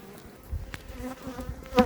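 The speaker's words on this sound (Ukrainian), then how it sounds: "дивіться, їх бджілки починають кормити, доглядають" Honeybees in a hive during queen replacement, the queen kept below a divider grid, give a faint, close insect buzz with a brief louder whine near the end.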